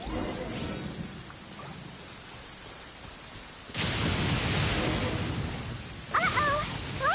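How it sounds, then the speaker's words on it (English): Rain and thunder during a lightning storm in Genshin Impact: a soft rain hiss suddenly swells into a loud, broad rumbling downpour, with a brief burst of high whistling tones near the end and no talk. "Uh-oh! Lightning storm!"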